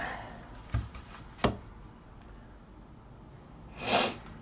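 Two quick sniffs close by, then a longer, wetter sniffle a few seconds later, with quiet room noise between them.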